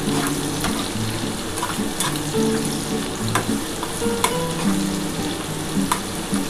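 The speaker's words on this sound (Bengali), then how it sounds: "আগে চিনিটা দিয়ে একটু ভেজে নিই বন্ধুরা।" Sugar fries in hot oil in a pan, a loud, close, continuous sizzle with occasional stirring clicks and scrapes, no voices over it.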